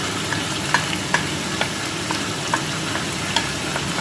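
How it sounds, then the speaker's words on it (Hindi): Whole spices sizzle steadily in hot oil as they are sautéed in a pan for dhaba-style gosht, with scattered light clicks of a spoon stirring against the metal over a constant frying hiss. "हमने मसाले डाल दिए इसमें, इसको भी भून लेंगे"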